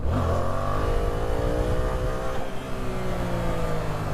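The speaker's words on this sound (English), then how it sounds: "when you hear the bike is like it's maxing out on the RPMs" A Yamaha FZ-07 motorcycle engine revs high and loud in second gear, its pitch climbing and holding near maximum RPM, with steady engine roar and no voices.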